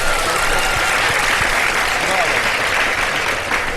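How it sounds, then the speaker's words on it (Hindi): A studio audience at a televised quiz show breaks into loud, sustained applause after a correct answer, a thick wash of clapping from many hands that holds steady throughout. "अपने लिए तो तालियां बजा दें, आप लोगों ने सही जवाब दिया है।"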